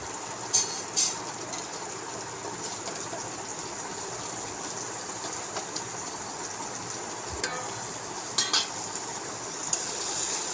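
Prawns sautéed in spice paste in a pan, a soft steady sizzle with occasional light scrapes and clinks of a spoon against the pan, fairly quiet, no talk.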